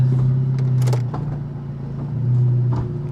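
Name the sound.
car engine running and stalling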